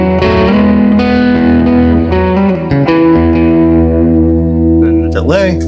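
Electric guitar run through a Levitate reverb and delay pedal set to a mild always-on reverb, sustained chords ringing with a lush wash that trails on, loud and close, with a short pitch-bending squeal near the end.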